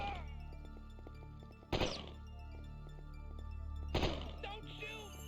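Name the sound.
grenade in a shooting video game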